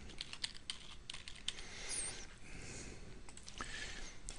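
Fingers tapping out a username and password on a computer keyboard, a quick, uneven run of light clicks and key presses close by, with no voices.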